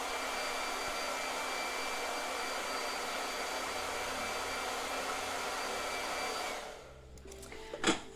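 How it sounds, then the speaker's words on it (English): A blow dryer runs steadily at close range with a constant loud whir for several seconds, then cuts off, leaving a few faint handling clunks and no talking. "You can keep talking about blow dryer."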